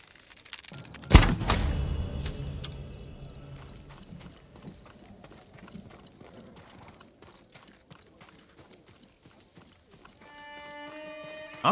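Horse hooves in Ghost of Tsushima: a sharp thud, then galloping clip-clop that gradually fades into the distance, with a short horse whinny and music coming in near the end.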